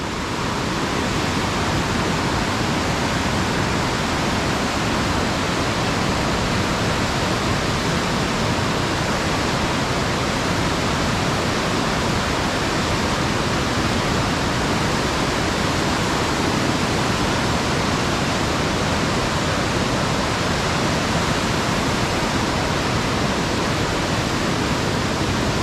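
A river in Royal Manas, Bhutan, rushing steadily beneath a shaking bridge crossing: a dense, unbroken roar of water that holds the same loudness throughout, with no voices.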